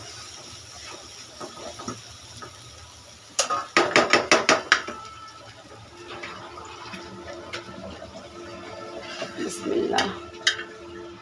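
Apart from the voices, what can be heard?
serving cooked jute greens with shrimp from the pot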